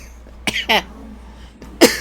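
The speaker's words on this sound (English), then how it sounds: "I'm coughing again." A person coughs close to the mic in a few separate harsh bursts with short pauses between them, against a quiet background.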